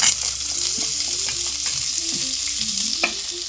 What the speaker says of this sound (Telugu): కడాయి వేడెక్కినాక నూనె వేసుకొని కొంచెం ఆయిల్ వేసి ఉల్లిగడ్డలు ఫ్రై చేసుకోవాలి